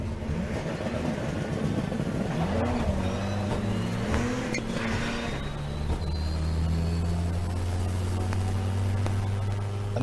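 A 600bhp four-wheel-drive rallycross Citroen DS3 launching hard, its engine note climbing and dropping through a run of quick gear changes, loud and continuous with no talk.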